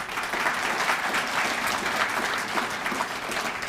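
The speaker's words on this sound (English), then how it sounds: "Give yourselves a round of applause." Young Game Changers at a Georgia Forward forum applaud themselves, a continuous wash of many hands clapping, loud and steady throughout.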